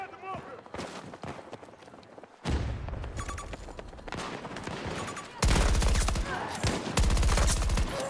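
Video game gunfire in rapid automatic bursts, loud and close, punctuated by running footsteps and getting heavier toward the end, with bursts broken by short pauses.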